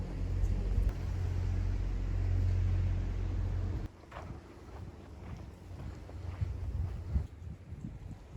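Strong wind buffets the microphone on a seaside island path, a loud low rumble for nearly four seconds, then gustier and lighter with scattered knocks and rustles.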